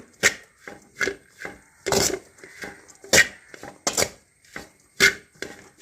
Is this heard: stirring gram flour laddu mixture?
yes